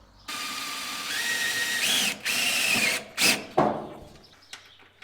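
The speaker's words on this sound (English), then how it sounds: "I hate drilling extra holes." A power drill whines steadily as it bores through metal on a Toyota FJ40, rising in pitch, with brief pauses and a short final burst before stopping.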